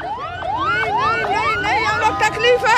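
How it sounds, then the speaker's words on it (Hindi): An ambulance siren wails in quick rising sweeps on a road in Quetta, Pakistan, repeating steadily, fairly close and loud over traffic. "इस वक्त एक एम्बुलेंस भी यहाँ आ रहा है,"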